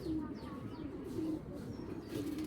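Imported foreign racer pigeons coo softly in a loft in Bangladesh, giving low, repeated throaty calls with a few faint chirps mixed in, fairly quiet throughout.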